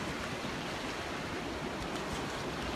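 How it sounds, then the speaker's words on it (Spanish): Broad, continuous rushing of surf washing ashore, close and steady with no voices. "Ahí viene el mar otra vez."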